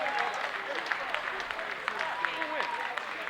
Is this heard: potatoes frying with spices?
no